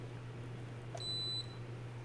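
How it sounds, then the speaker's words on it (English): A single electronic beep, a short high-pitched tone lasting about half a second, sounds once over a quiet background hum. "Okay, it just beeped"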